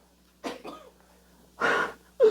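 Several short, harsh coughs in a quiet classroom during a high school math lesson, two bursts close together followed by a louder one and another starting at the end.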